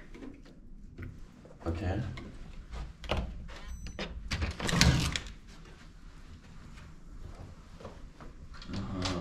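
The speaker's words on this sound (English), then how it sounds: "we are going to open this door and see" A hotel room door in an expensive Kyiv hotel is opened with a few close handle clicks, thuds and a swinging rustle amid handling noise, while someone speaks briefly.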